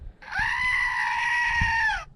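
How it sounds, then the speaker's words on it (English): A screaming goat desk ornament lets out one long, loud, strained goat-like scream lasting nearly two seconds, with faint handling noise around it. "It's a screaming goat desk ornament."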